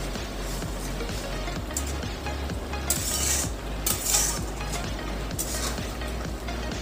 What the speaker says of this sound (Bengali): একটু নেড়ে ছেড়ে নেব।